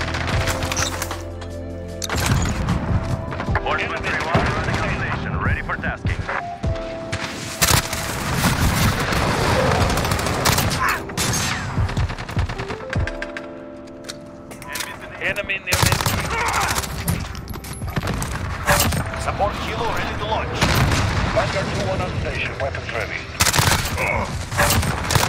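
An MP5 submachine gun fired in a shooter video game: long, dense strings of rapid automatic fire pour out nearly continuously, with brief pauses between bursts and a player's voice talking now and then over the action.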